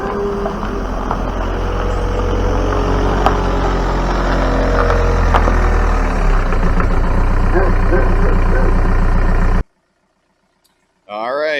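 A 1999 VW Beetle converted from gasoline, idling with a loud, rough, steady engine rumble and mechanical rattle heard close up for about ten seconds, then cutting abruptly to silence before a short burst of warbling noise.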